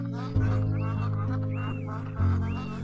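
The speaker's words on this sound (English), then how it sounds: "It's a duck." A duck quacks a few times in the video game Beyond Eyes, short calls over a steady game music and ambient background.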